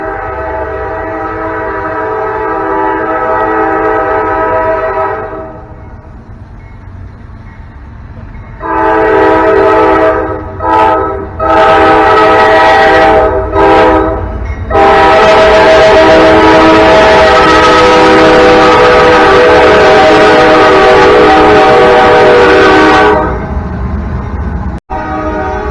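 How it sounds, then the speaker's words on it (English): Loud train rolling past close by, a sustained rumble and clatter with repeated blasts of its horn, some short and broken, then one long sustained blast before it cuts off. "We'll stand here and watch the train go by."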